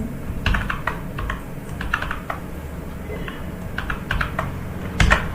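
Keys clatter on a computer keyboard while text is entered in Microsoft Word, with irregular bursts of close, moderately loud keystrokes separated by short pauses and a busier flurry near the end.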